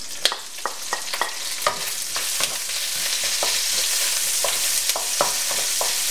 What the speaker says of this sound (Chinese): 翻炒一下